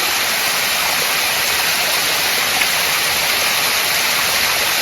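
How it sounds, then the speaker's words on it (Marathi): A stream swollen with the first monsoon rainwater rushes in a loud, constant roar close by, with no voices. "पहिल्या पावसाचा पाणी"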